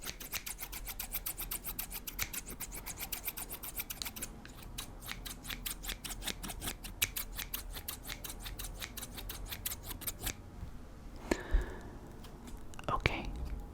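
Scissors open and close in a fast, even run of crisp snips, then stop, followed by a few louder isolated handling sounds, with faint whispering in the background.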